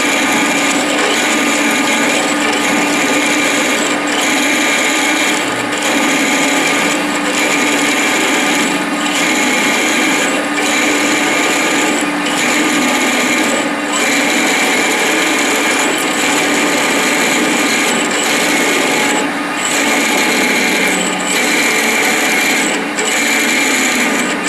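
A drill bores steadily into a metal hinge shaft, a loud, continuous grinding whir with a faint regular pulsing rhythm that runs unbroken throughout.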